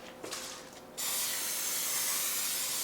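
A spray of cooking oil coats a loaf pan before baking, a steady close hiss lasting about two seconds after a faint, quieter start.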